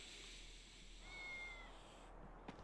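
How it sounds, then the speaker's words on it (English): In the Tales of Xillia 2 video game, a cat gives a single drawn-out meow, thin and faint over quiet ambient game sound, followed by a brief click. "Sounds like there's a cat out here."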